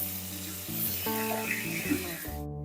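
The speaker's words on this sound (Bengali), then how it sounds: "মাছগুলো খুব ভালোভাবে ভেজে নেব।" Salt-and-turmeric-coated fish pieces fry in hot mustard oil, giving a steady hiss of sizzling that runs beneath a louder tonal, music-like layer throughout.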